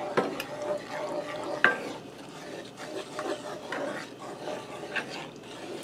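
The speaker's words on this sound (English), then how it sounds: "Stir that around." Stirring salt, pepper, onion powder and garlic powder into country gravy in a pan: a continuous soft scraping and rasping at close range, with small knocks and a faint simmering sizzle underneath.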